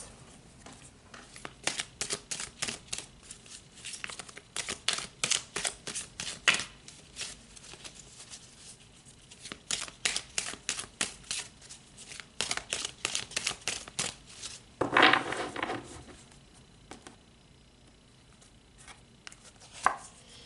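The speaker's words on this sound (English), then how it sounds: "So let's pull some more cards." Tarot cards being shuffled in repeated bursts of rapid riffling and flicking, close and crisp, separated by short quiet gaps, with one louder rustling sweep near the end.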